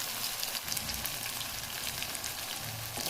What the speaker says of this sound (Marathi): बारीक गॅसवर तळायचं आहे इथं वडी आपल्याला.